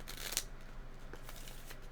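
A deck of tarot cards is shuffled by hand, quiet and close, with a few soft riffling bursts and light card flicks spaced across a near-silent room.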